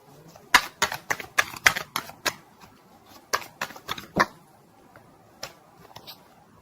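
Tarot cards are shuffled in quick bursts of crisp snapping clicks, then a few sparser taps toward the end.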